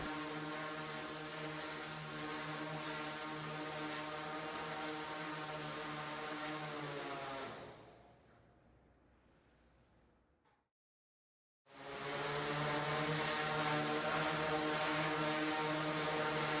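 Overactuated quadrotor omnicopter UAV flying, its propellers giving a steady, loud buzzing whine with harmonic tones. It cuts out into near silence partway through, then resumes at full strength.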